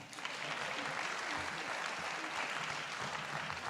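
Steady, dense applause from an audience at a school board meeting, honoring 2022 district level student winners; a broad, even wash of clapping sustained throughout without a break.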